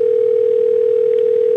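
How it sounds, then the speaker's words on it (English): After a number is dialed, a telephone line gives a single steady, loud ringing tone that holds unbroken at one pitch. "Okay, here it's ringing."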